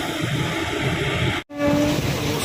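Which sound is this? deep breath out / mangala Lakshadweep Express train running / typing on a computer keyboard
mangala Lakshadweep Express train running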